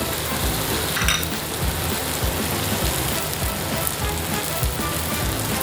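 Spices sizzle and fry in hot oil for Indian cauliflower sabzi. A steady crackling hiss is broken by scraping stirs in the pan.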